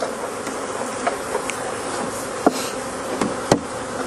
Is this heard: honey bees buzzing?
yes